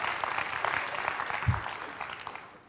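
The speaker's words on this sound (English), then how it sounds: "I don't know why you guys are clapping about that." A keynote audience applauds with sustained, dense clapping that fills the hall, then gradually thins and fades out.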